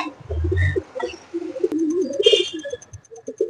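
Malwai pigeons kept for sale coo in low, soft bursts close by, mixed with faint chirps and light shuffling in a quiet setting without talk.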